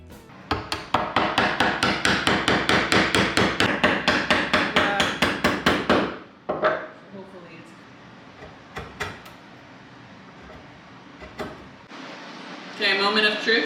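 Wood is chiseled for a mid-century side table joint in roasted ash. Rapid, sharp mallet strikes come in a fast, even burst, then a few scattered knocks and scraping follow, with voices talking in between.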